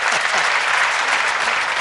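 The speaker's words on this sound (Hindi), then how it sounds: "जो ऐसा कर चुके हैं भैया वही ताली बजाते हैं" Crowd at a humorous poetry recital clapping, a brief burst of dense, steady applause filling the room.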